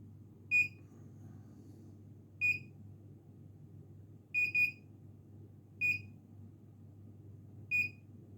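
A fingerprint access control keypad gives short, high, clean beeps, five spaced events with one quick double beep, each sounding alone over a faint low hum.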